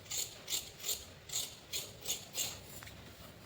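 Scissors snip through blouse fabric in about eight rhythmic, evenly spaced crisp cuts, close and quiet, with no talking.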